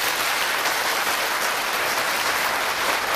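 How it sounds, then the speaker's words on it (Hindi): Dense, steady clapping from a gathered audience at a live Hindi religious discourse, continuous broadband patter at even loudness for the whole stretch with no voice over it. "तो ताली तो बजती है ना"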